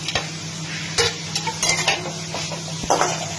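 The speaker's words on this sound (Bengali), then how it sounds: "এটা আবার ভালো করে ফ্রাই করে দিতে হবে।" Crushed ginger and green chili being stir-fried in a pan, a steady sizzle with a utensil scraping and clinking against the pan in quick irregular strokes, close and with no talking.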